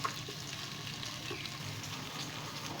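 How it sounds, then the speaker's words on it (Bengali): Rohu fish head being stirred with rice and spices in a pan for muro ghonto, a steady low sizzle with soft scraping of the stirring, close and moderately quiet, no voices. "মশলার সঙ্গে চাল আর মুড়োটাকে মিশিয়ে নিচ্ছি"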